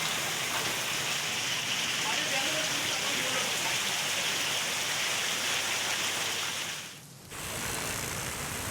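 Heavy monsoon rain in Kalyan roars in a dense, unbroken hiss throughout, dipping briefly near the end before returning just as strong.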